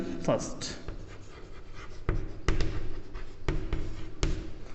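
Marker or chalk writing out an equation during a Class 9 polynomial maths lesson, with several sharp taps and scratchy strokes spaced irregularly under a teacher's steady talk.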